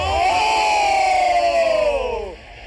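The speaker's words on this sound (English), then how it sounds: "people are cheering Liquid right now" A big esports arena crowd roars and cheers for Team Liquid at a StarSeries i-League final, one sustained loud swell of voices that rises, holds, then drops off near the end.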